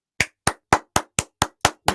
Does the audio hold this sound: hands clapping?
yes